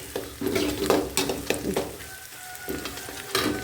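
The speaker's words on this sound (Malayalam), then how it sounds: "ഇതിലേക്ക് വെണ്ടയ്ക്ക പച്ചമുളക് എല്ലാം കൂടി ഇട്ടിട്ട് വഴറ്റിയെടുക്കണം" Okra and green chillies are sautéed in a pan for a Malayalam-style okra mappas, with spatula scrapes and stirring strokes over a soft, steady sizzle, fairly close and with no talking.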